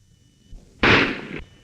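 A single sharp, loud burst from a gun in a 1939 western film, brief and close, preceded by a faint click.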